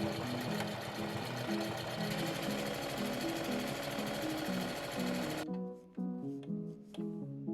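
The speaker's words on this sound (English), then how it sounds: "So I'm going to do a line of stitches to make the casing for the elastic." A sewing machine stitches a casing for elastic on an upcycled thrifted shirt, a loud, close, rapid mechanical chatter that runs steadily and then continues with a lighter, thinner tone toward the end.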